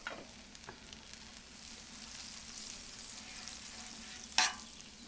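Butter sizzles gently on a PitBoss flat top griddle over a low burner, a quiet steady frying hiss with a couple of faint taps and one sharper scrape near the end.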